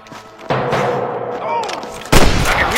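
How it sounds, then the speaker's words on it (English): Booming gunfire from a game, loud blasts around half a second and again near two seconds, with a faint music hum underneath. "I can hear more gunshots."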